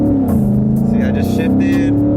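A 2017 Ford Mustang GT with a Ford Performance Power Pack Stage 2 tune shifts gear while driving, its loud, close engine drone dipping in pitch at the change, then settling and building again under cabin noise.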